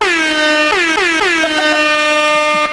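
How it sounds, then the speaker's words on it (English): A loud, blaring air horn sounds continuously, with a few quick pitch dips at the start before holding steady until it cuts off. "Air horn."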